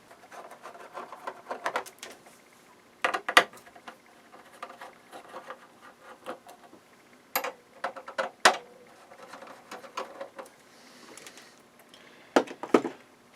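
Connectors being unplugged inside an IBM Power 6 server's power distribution section, irregular close plastic clicks, snaps and scraping handling noises in short bursts, with no talking.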